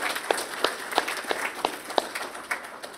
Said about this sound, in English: So have a round of applause for him.